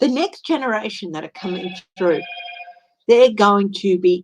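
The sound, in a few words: mobile phone ringing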